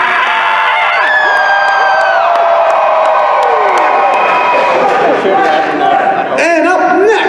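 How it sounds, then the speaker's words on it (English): Loud crowd cheering fills a hall at an anime convention in Omaha, Nebraska, with sustained whoops and high shouts over a roaring mass of voices that swells and rises again near the end. "If you cheer loud enough, he actually might hear you"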